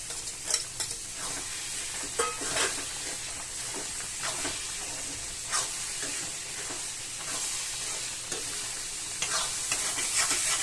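Onion and tomato stir-frying in a pan make a continuous sizzle layered with frequent scraping spatula strokes, near and steady, with no one speaking.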